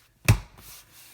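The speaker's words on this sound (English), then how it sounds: "That's the sound of those two clips." Rear seat cushion of a BMW E46 convertible pushed down so its two plastic clips snap into place, giving one sharp, close click followed by a faint rustle.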